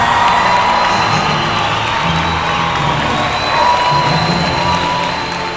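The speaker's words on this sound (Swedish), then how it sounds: "en varm applåd för Rebecka Simonsson!" Studio audience clapping and cheering on a Swedish television gala show, a steady dense wash of applause with whoops that holds for several seconds at a fairly loud, even level.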